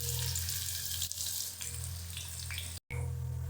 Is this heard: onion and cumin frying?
yes